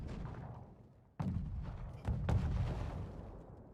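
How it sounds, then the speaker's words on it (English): Mortar and counter-artillery fire in a competitive war video game match: two heavy booms land about a second apart, each followed by a sustained rumbling roar over continuous low battlefield noise. "Have their own mortars to do a little bit of counter artillery."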